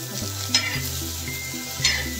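Garlic, green chillies and tomatoes roasting in a little oil in a pan for chutney, a steady close sizzle with soft periodic scraping strokes and a low hum underneath, no voices.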